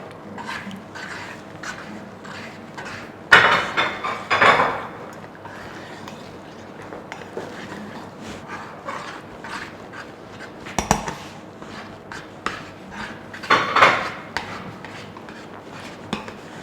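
A spoon stirs soft beans pudding with ginger in a metal pot, scraping and clinking in irregular strokes with a few louder knocks against the side.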